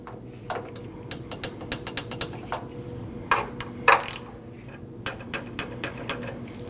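A hand ratchet works bolts tight on a 2012–2021 Nissan NV2500 AC condenser and receiver drier assembly, giving quick runs of clicks in bursts with a few louder metallic knocks, close by and with no talk.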